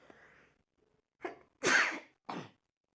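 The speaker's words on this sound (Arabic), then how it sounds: "خلاني عطست." One person with a cold gives a soft breathy intake, then a loud, explosive sneeze followed by a shorter trailing burst, close up and in an otherwise quiet room.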